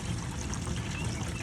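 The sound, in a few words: waste water flowing through hose into portable dumping tank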